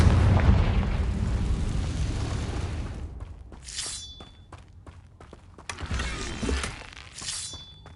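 Fiery Confringo spell blasts in the Hogwarts Legacy game: a long rumbling explosion fades out, followed by a string of sharp crackling bursts and two bright shimmering flares.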